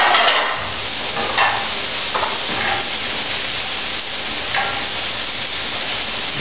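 Shrimp and vegetable pasta stirred in a hot pan, a steady close sizzle and hiss with soft scraping stirs breaking through now and then, no voices.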